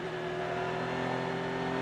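Onboard race car at the 2015 Petit Le Mans, its engine held on throttle as a loud, steady, droning roar with strong tonal whine throughout, no talk.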